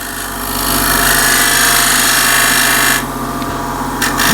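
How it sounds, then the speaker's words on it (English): A bench grinder whines steadily as an old chisel used as a scraper is sharpened, the loud grinding rasp swelling then easing off near the end, with no talking. "So I'll go again on the grinder real quick."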